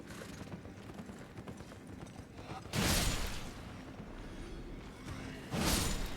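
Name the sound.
horse galloping away in Elden Ring video game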